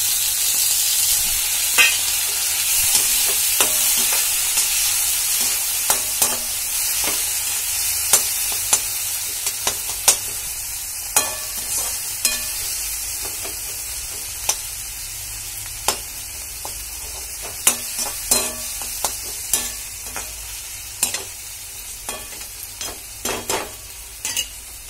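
Chopped tomatoes frying in a pan for Maggi noodles, a steady close sizzle with repeated scraping clicks from a spoon stirring them throughout.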